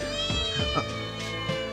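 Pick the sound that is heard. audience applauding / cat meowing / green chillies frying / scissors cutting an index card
cat meowing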